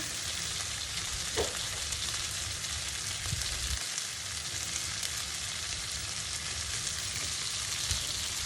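A shallot and garlic confit mixture sautés in a pan for a blackened pork and andouille Creole, giving a steady, even sizzle throughout. It sounds close and moderately quiet, with a few faint bumps and no voices.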